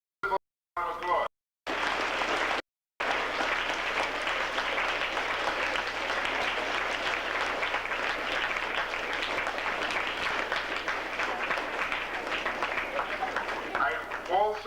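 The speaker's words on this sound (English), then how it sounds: "let's give all of these teachers and principals a round of applause" Sustained applause from a school assembly crowd honoring teachers and principals, broad steady clapping for over ten seconds after a few brief starts, with a voice briefly audible near the end.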